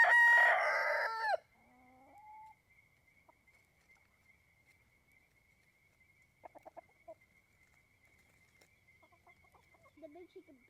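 Hens cluck and a rooster crows loudly at the start, followed by quieter scattered clucks and short calls from a flock of layer chickens over a faint steady background hum.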